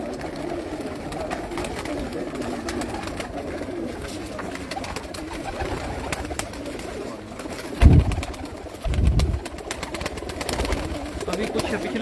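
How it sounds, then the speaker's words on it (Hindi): Pigeons coo softly and continuously from a rooftop loft of racing pigeons, a low murmuring chorus with a couple of louder thumps or flutters partway through and faint voices in the background. "अभी हमारे पास 100 से ऊपर कबूतर लगे हुए हैं"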